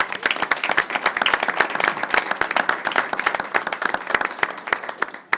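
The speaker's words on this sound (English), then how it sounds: "Round of applause. Let's give our team a hand." A school district board meeting audience gives a warm round of applause, many hands clapping densely and steadily for several seconds, loud and close, with no talking over it.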